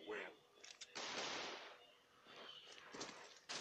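Gunfire from a rare gun in the shooter game Crossfire: Legends, heard as bursts of sharp shots spread through the clip, loudest around the first second, with a voice talking over part of it.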